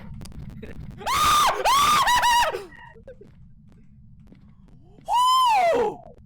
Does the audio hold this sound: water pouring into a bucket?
no